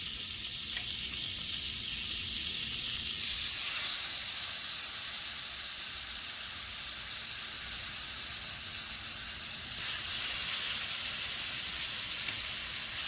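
Steaks dropped into a hot pan with melted butter and rosemary give a loud, steady sizzle and hiss that swells after a few seconds and carries on continuously, with no talking.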